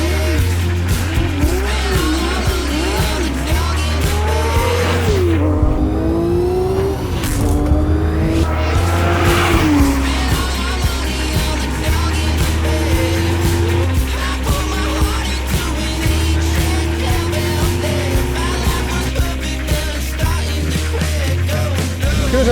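A Porsche 911 992 ST sports car being driven hard, its engine loud and close with rising and falling revs, gear changes and tire squeal through most of the stretch.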